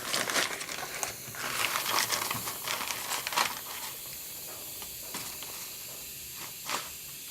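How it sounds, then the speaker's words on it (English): Compressed air blasts from a rubber-tipped nozzle into the oil feed hole of a 1965 Harley-Davidson panhead 74ci FLH engine. It comes as fairly quiet, hissing, sputtering bursts of varying length, with no talking. "we're going to take our rubber tipped air nozzle over here"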